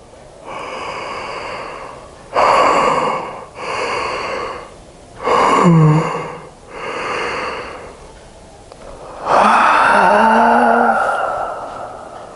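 Several deep yawns come one after another during a yoga exercise of gently pulling the ear lobes downward. Each is a long breathy inhale that swells into a groaning, falling-pitch gasp, close and loud, with quiet breathing between them.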